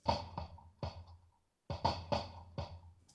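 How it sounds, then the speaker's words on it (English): A raw kick drum recorded through a soup can mic gives soft, boxy thumps, in two short bursts of irregular hits with a brief silence between them. "So we've got the kick drum on its own,"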